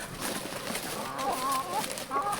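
Hens on a farm are chased by roosters, giving short agitated clucks and squawks close by amid rustling movement, without speech.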